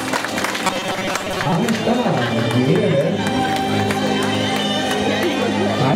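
Applause and cheering from a crowd at the 2011 corn festival in Yucuaiquín, El Salvador, runs steadily throughout, mixed with a voice speaking over a PA and busy background chatter.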